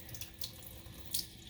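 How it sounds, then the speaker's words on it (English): A faucet is turned on and runs with weak water pressure, giving a thin, steady hiss of flowing water with a few faint splashes. It is quiet and close, with no talking. "What you can do is turn the water on at this point."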